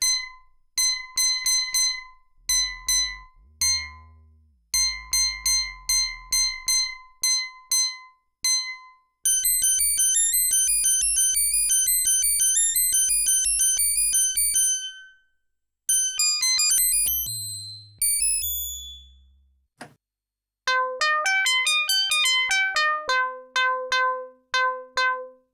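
An ARP Odyssey analog synthesizer with calibration issues plays bright, bell-like electronic tones in rapid sequences, sweeps and bursts, with brief gaps of silence between phrases.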